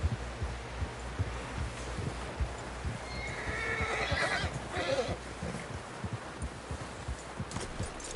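A horse in the video game Red Dead Redemption 2 whinnies amid clopping hooves and busy background noise, the neigh rising clearly in the middle before fading.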